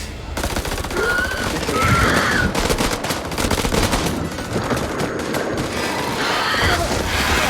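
Rapid automatic gunfire bursts crackle continuously in a video game, dense and loud throughout with brief gaps between volleys.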